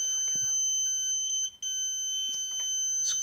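A new NAPCO security alarm keypad has its buttons pressed, giving short electronic beeps and clicks over a continuous high-pitched tone heard up close.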